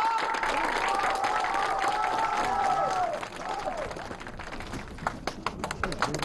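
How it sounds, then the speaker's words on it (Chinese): Villagers clap together after a village committee election result is announced, a dense, steady burst of crowd applause with voices mixed in, easing slightly partway through. "鼓掌鼓掌鼓掌鼓掌。"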